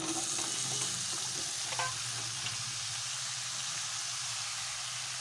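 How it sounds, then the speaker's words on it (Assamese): Taro pieces being stirred into spices frying in hot oil in a pan, with a steady close sizzle and occasional scraping stir strokes, no voices. "এতিয়া এইখিনি মই ভালকৈ লৰাই দিম।"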